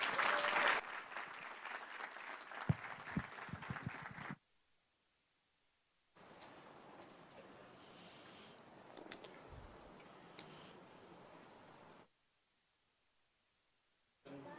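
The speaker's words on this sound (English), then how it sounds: "One more round of applause for our SROs." Audience applause at a school board meeting, with two stretches of fairly quiet, moderately distant clapping broken by a short silence and followed by another.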